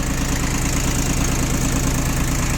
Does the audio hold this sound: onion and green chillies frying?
no